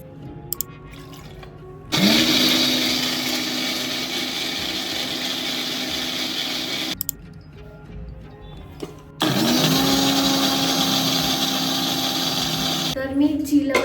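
A kitchen mixer grinder blends chutney of chillies, mint, coriander and dal in two loud whirring bursts of about five and four seconds, each rising in pitch as it starts, with quieter gaps between them.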